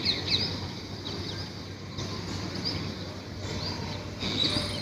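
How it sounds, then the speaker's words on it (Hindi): Parrots call from trees and wires in the early morning, faint scattered chirps and whistles over a steady outdoor background hum. "पेड़ पर, तार पर, सभी जगह इस समय ये पैरट्स अपना इस समय संगीत सुना रहे हैं।"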